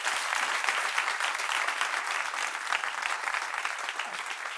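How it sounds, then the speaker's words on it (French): A studio audience on a French-language debate show applauds, steady dense clapping that stays full and even throughout with no voices standing out. "Applaudissements pour vous-même."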